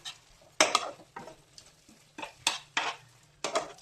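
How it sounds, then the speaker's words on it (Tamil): A spoon stirs salt into paneer gravy in a pan for restaurant-style kaju paneer, making about eight separate scraping, clinking strokes at an uneven pace, close by and fairly quiet. "போட்டு நல்லா மிக்ஸ் பண்ணணும்."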